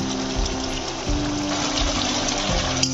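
Water splashes into a pan holding tomato, potato and coriander leaves, a continuous close trickling rush with a low background hum and no talking.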